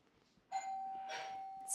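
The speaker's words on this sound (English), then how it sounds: "So ring the doorbell." A single electronic doorbell chime rings out, a clear ding followed by a second tone, moderately faint against a quiet room.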